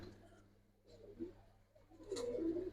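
Giribaz pigeons, including silver-type females, coo softly in short, faint bursts, the calls growing a little louder toward the end, with a voice in the background.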